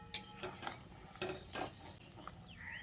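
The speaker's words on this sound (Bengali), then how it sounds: "দিয়ে আবারও একবার ভালো করে নেড়ে চেড়ে মিশিয়ে নিচ্ছি" A spoon stirs mung dal gravy in a pot, with ghee just added and the gravy at a boil. A few soft scraping strokes come quietly, close by, with no talk.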